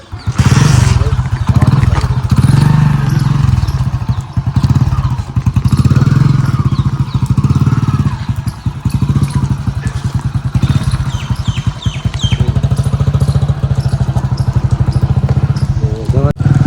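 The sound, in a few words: motorcycle engine starting and running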